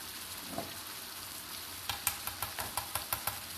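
Ingredients stirred in a hot cooking pan over a constant frying sizzle, with a run of regular scraping taps from a utensil toward the end, near and without talk.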